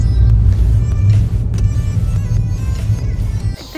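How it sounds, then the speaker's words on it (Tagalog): A car pulls into a parking area with a loud, steady low engine rumble close by that holds throughout, then eases and drops near the end. "ipapark lang po natin ang ating sasakyan dito po sa parking area"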